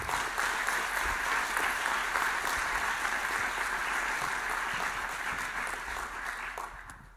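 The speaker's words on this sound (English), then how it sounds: "Can we just give them a round of applause?" Conference audience applause at a data science talent event: a sustained, even rush of many hands clapping, steady for about six seconds before tapering off slightly at the end.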